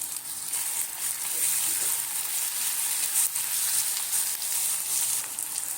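Chopped tomatoes hit hot oil with frying jackfruit pieces, setting off a loud, continuous sizzle and crackle close by that holds steady throughout.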